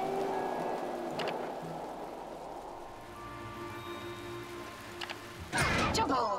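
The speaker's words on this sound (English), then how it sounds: "Pollution causes acid rain." Acid rain falls in a video game as a steady, soft patter of drops that continues throughout, ending with a brief louder burst of noise.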